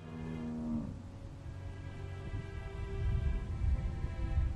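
A cow moos in The Walking Dead video game, one long low bellow up close at the start, then a rumbling low background.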